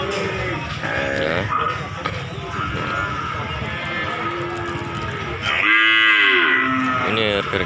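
Several PO cattle moo loudly at a livestock market in Sleman, Indonesia, long low calls overlapping amid a busy outdoor crowd murmur, with one especially loud bellow near the end.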